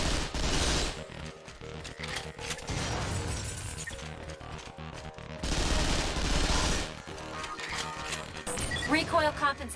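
Gunfire in the shooter game Vanquish, loud bursts of rapid automatic fire in several volleys separated by brief pauses, with metallic crashes and mechanical clatter, ending in a sharper crackling flurry.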